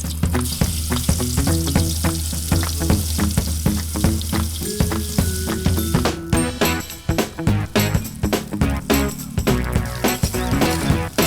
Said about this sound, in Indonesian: Aroma tritip yang ditumis Bu Yani sudah mulai keluar nih